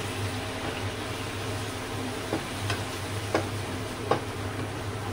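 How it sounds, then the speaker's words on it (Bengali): Spice paste frying with a splash of water for doi katla, fish in yogurt sauce, makes a low even sizzle, punctuated by a few sharp spatula taps against the pan. "মশলাটাকে আমি কষিয়ে নেব"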